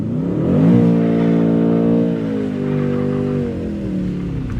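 A Mercedes-AMG C63s on snow at full throttle: a loud, close engine note climbs in revs, holds a steady high drone, then drops off as the throttle eases.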